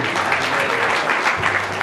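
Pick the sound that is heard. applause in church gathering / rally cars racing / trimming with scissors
applause in church gathering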